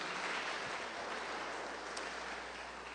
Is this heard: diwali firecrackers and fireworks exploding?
no